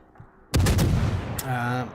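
A ship's guns fire in World of Warships aboard the cruiser Worcester, one heavy booming salvo that rolls and rumbles, then a second sharp crack followed by a lingering tonal tail.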